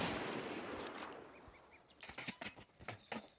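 Machine gun fire sounds in the survival shooter Deadside: a decaying rush of noise gives way to several sharp, fairly faint bursts of shots, heard at a distance.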